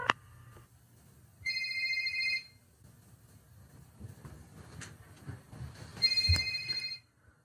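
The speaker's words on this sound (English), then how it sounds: "The phone is ringing." A telephone rings in two clear double bursts of electronic trilling, with quiet room tone and faint low rumble between the rings.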